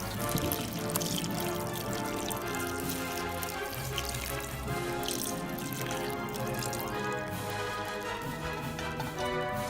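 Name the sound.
pouring hot tea into a bucket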